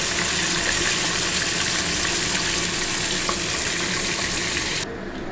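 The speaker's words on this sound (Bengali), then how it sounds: "সর্ষের তেল কড়াতে গরম করে নিয়েছি, এবার মাছগুলো ভাজবো" A loud, steady sizzle of rui fish frying in hot mustard oil in a kadai crackles continuously up close, then drops slightly quieter just before the end.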